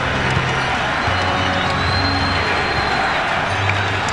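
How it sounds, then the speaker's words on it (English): A basketball arena crowd on its feet during a Milwaukee Bucks playoff game against the Nets keeps up a dense, loud, steady roar with cheering and chanting throughout. "The crowd again on its feet chanting defense for the Milwaukee Bucks."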